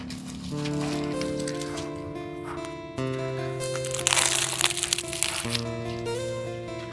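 Steady crunching and crackling as egg puffs are eaten during an eating challenge, continuous and close, with a brighter burst of crunches partway through.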